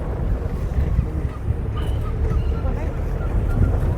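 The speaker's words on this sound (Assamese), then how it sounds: "বেলেগ চৰাইও আছে ইয়াতে পুৰা আৱাজ আহি আছে" Birds call in Kaziranga forest during a jeep safari, faint honking cries buried under heavy wind rumble and vehicle noise throughout.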